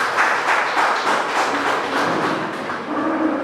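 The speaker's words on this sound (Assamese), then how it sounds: "এজাউৰি হাত চাপৰি আমি সকলোৱে দিব লাগে" Audience at a death anniversary commemoration for a freedom fighter, clapping together in a steady, close, moderately loud burst of applause with no talk over it.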